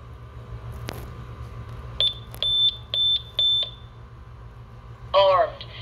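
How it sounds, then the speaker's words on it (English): A Honeywell alarm keypad beeps while the system is being armed to stay mode: a series of short, sharp, high electronic beeps, four in quick succession, then a brief chirpy tone near the end. "Let's arm it to stay using the keypad."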